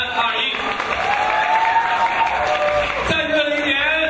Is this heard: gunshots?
no